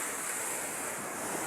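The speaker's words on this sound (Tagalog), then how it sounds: "Grabe yung tubig dito guys." Rough, churning water rushes past in a steady, dense roar, loud and close, with a windy hiss and no voices.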